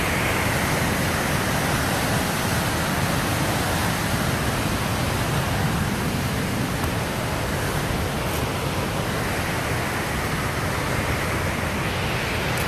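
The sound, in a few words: waterfall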